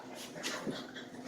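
A dog whimpers briefly, a couple of soft, high whines close by, with no one talking.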